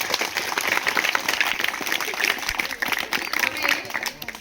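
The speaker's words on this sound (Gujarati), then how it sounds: "પહેલા તો આ બધી ટીમ માટે જોરદાર તાળીઓ થઈ જાય" A crowd at a primary school quiz competition gives the quiz teams a round of dense, steady applause that keeps going without a break for about four seconds.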